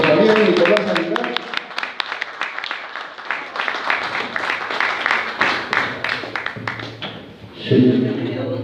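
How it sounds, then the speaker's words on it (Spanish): Audience applause at an 80th anniversary commemoration event of a friendship and cooperation association: a dense round of clapping from a crowd building over several seconds, with a voice speaking before and after it. "Fuertes palmas para el compañero Nicolás Aguilar."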